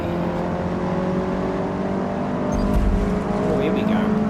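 A race car engine in Forza Motorsport holds a steady, loud, droning whine at high revs through the whole stretch, with some tire noise. Someone talks over it.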